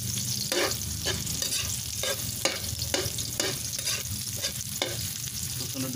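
Chopped garlic and onion sizzle steadily in a hot pan while a spatula scrapes and stirs in regular strokes about twice a second, close and loud, with no talking.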